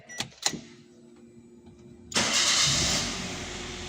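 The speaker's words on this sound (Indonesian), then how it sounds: "Mesin kita hidupkan ya." Daihatsu Terios TX automatic engine starting: a couple of brief clicks, then the starter cranks and the engine catches abruptly, settling into a loud, steady idle close by.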